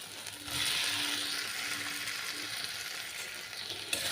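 Fried flat beans and potato are mixed into spices frying in a pan, giving a soft, steady sizzling hiss with light scraping as they are stirred, fairly close and alone.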